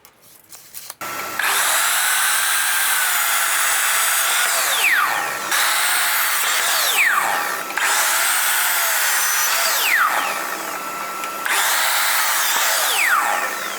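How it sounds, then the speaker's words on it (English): A power tool cuts treated 3.2 4x2 fence rail timber for a workbench build, running in four loud, sustained bursts separated by short pauses as it spins down, close and with no talk. "We'll cut all the timber that we required."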